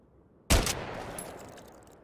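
Single rifle shot in a video game, a sharp loud crack followed by a long fading echo tail, with no talk over it.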